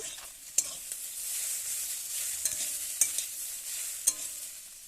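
Chopped green chillies, coriander leaves and capsicum are stirred in a pan with a soft background sizzle, a few sharp scrapes and clacks of the utensil against the pan standing out clearly.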